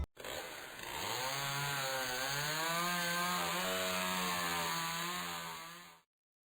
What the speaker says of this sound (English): That was a chainsaw?